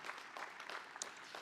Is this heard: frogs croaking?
no